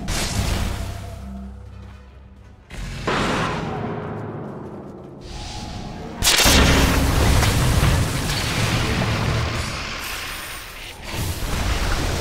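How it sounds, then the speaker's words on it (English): A Dota 2 tower collapsing in a video game: a string of loud booming blasts and crumbling bursts, with a heavy new impact midway and another toward the end, all densely layered game effects with no talk. "Dire's bottom tower just got destroyed!"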